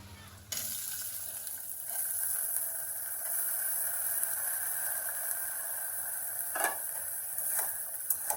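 Washed kakrol gourd drops into a pan of hot oil with softened onions, setting off a sudden steady sizzle that continues with faint scraping, near and fairly quiet.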